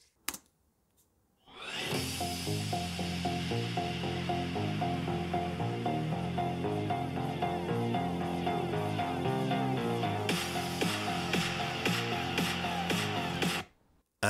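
A Lenovo Yoga Slim 7i Gen 9 Aura laptop playing music through its four-speaker system at 50% volume: a steady, full music track with a beat and layered instruments, running continuously and alone after a brief quiet start.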